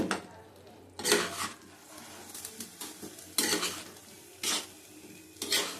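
Potato and pumpkin curry being sautéed and stirred in a pan, with repeated scraping and clattering bursts of a utensil against the pan over a low sizzle, nearby and moderately loud.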